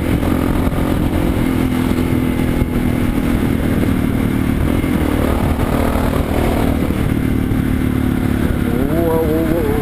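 Motorcycle riding nearby in traffic, a steady loud engine drone with clatter and road noise running throughout, heard from another bike in the flow.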